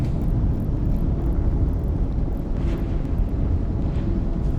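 A ship exploding in EVE Online: a dense, continuous low roar and rumble, loud and steady for several seconds without a distinct single blast, no speech.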